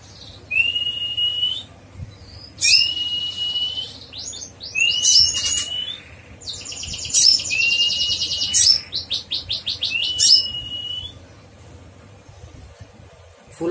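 A konin songbird sings in bursts of shrill whistles, chirps and rapid trills, close and clear over a faint low hum, with pauses between phrases and no speech.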